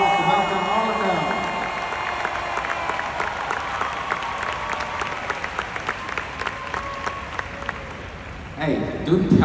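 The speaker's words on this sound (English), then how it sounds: "Let's give them a round of applause to welcome all of them." A conference audience at an Amway business talk gives a long round of applause, with crowd noise and a voice talking over the clapping, which thins out before a brief renewed burst at the end.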